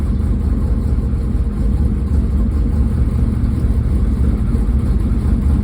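Car engine fitted with Edelbrock Pro Flo 4 fuel injection idling steadily just after starting, a close, loud, even rumble with no talking over it.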